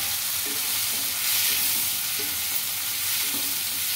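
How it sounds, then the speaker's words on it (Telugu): Chopped tomato pieces dropped onto onions frying in a pan, a steady sizzle with soft stirring scrapes and small bumps, close and alone. "ఇప్పుడు ఆనియన్స్ బాగా ఫ్రై అయినాయి కదండి. ఇప్పుడు అందులోకి టమాటో ముక్కలు అయితే వేసుకుంటున్నా"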